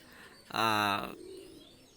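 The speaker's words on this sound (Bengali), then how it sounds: "এক পেয়ার হোয়াইট কমান্ডো কবুতর নিয়ে আসলাম" A single short, tonal cooing call from a white commando pigeon, close and clear, rising out of quiet background and fading quickly.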